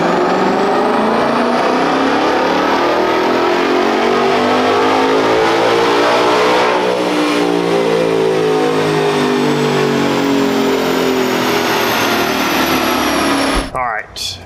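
Ford Mustang GTD on a chassis dyno, its engine climbing steadily in a loud, sustained rev-up for about fourteen seconds, harmonics sweeping upward before it abruptly lifts off and drops away at the end.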